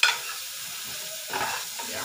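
Jeera powder being stirred into mutton pepper fry as it sizzles in the pan, a soft scrape at the start and a steady fry hiss with a second stirring swell near the end.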